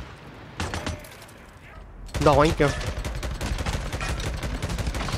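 Machine gun fire rattles in rapid bursts during combat in the video game Days Gone, loud and close, with someone talking over the shooting.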